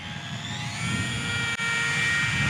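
Eachine Mini P-47 RC warbird plane flying in to land, its small electric motor giving a steady high whine that builds slightly, with one brief dropout midway and no voices.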